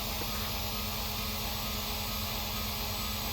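A loud car engine drones steadily inside the cabin in the video game The Long Drive, with no pause or shift over the whole stretch and no voices.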